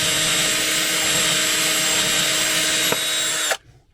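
Steady whine of a power drill boring a small pilot hole through a camper roof while fitting a 5G antenna, running continuously at close range before stopping abruptly.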